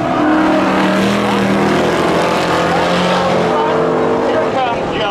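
Race cars roar loudly and steadily in spectator drag racing at Seekonk Speedway's Labor Day Thrill Show, engines droning at full throttle as a commentator talks over them.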